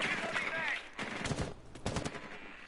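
Sharp gunshots from the console shooter Rainbow Six Siege, played on PS4, ring out in short clustered bursts during a competitive match, mixed with busy game sound and a voice talking.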